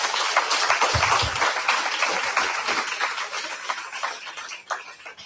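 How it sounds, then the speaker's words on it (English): An audience claps in a continuous burst of applause at a community gathering in Dominica, dense and lively at first, then thinning out and fading toward the end. "Let's give it a round of applause."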